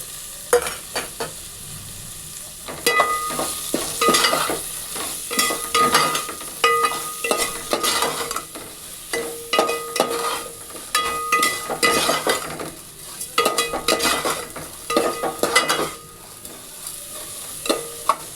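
Onion, garlic and green chili frying in oil for khichuri, with steady sizzling under repeated scraping stirs and clinks of a spatula against the pan, alone without talk.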